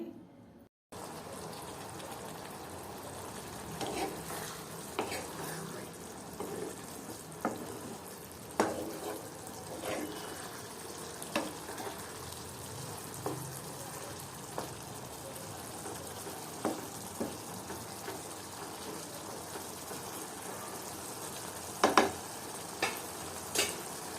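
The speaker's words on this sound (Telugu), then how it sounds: "కూర బాగా ఉడికింది ఇప్పుడు చింతపండు పులుసు వేసి నెమ్మదిగా కలపండి" Moong dal punugulu curry simmering in a pot after tamarind water is added, with a spoon stirring in soft, scattered scrapes and clicks over a faint bubbling hiss.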